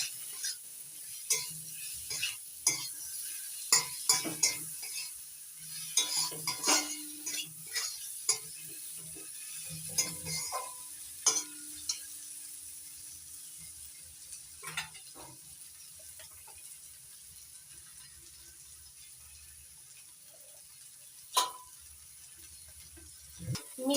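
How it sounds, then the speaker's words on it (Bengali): Cabbage bharta seasoned with salt and black salt is stirred in a pan, with a steady close sizzle under repeated spoon scrapes and sharp metallic clinks against the pan. Nobody speaks. "এবার এটাকে নাড়াচাড়া করে ভালো করে মিশিয়ে নেব।"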